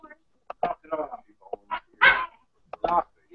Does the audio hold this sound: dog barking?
yes